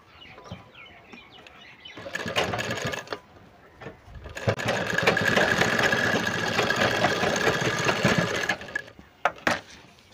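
A sewing machine stitching fabric while a chain pocket is attached to a petticoat, running in two loud sustained bursts with short pauses and a few brief taps between them, close and with no talk.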